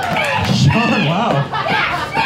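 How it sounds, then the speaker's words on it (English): A crowd at a hot dog eating contest in Saskatoon squeals and chatters, with overlapping high-pitched excited voices filling the clip close and loud. "Getting some squeals from the crowd"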